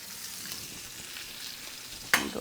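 Bacon fries in a pan on a stovetop with a steady, quiet sizzle and crackle, then a sudden louder hiss of fat near the end.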